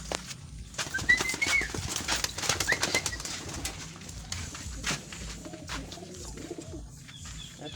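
Pigeons coo in soft, low murmurs close by, with bursts of wing flapping and scattered rustling among the flock.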